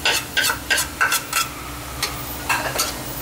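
Pork and dried shrimp are stir-fried in a pan, with loud rhythmic spatula scrapes against the pan about every third of a second over a steady background sizzle.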